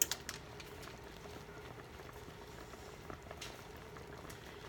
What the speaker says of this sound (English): So you can see it's boiling pretty good now, still.